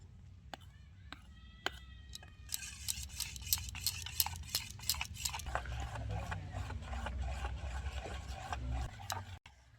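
Close, repeated utensil clicks and taps against a bowl while eggless cake mixture is folded into batter, quickening into a dense patter of strokes over low background rumble.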